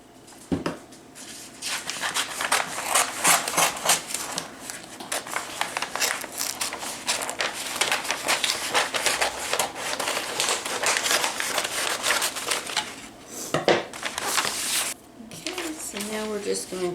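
Scissors cut through a sheet of crinkly wrapping paper, giving repeated crisp snips and rustling crackles up close, mixed with paper handling, and a voice talks over much of it.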